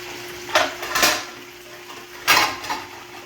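Pork chops with rosemary, thyme and basil cook in a pan, with a faint underlying sizzle broken by a few clanks and scrapes of a utensil against the pan, close by and without speech.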